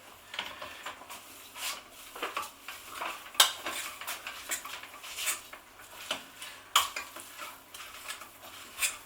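A utensil scrapes and stirs leftover bubble and squeak of cabbage, carrots and onions in a pan, giving irregular clinks and scrapes at close range with a faint sizzle beneath.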